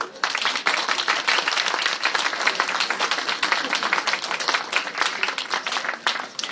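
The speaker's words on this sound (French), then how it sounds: "je vous demande d'applaudir une dernière fois nos 4 champions." An audience at a Harry Potter themed fan event applauds four champions, a dense, sustained round of many hands clapping at an even, loud level from start to finish.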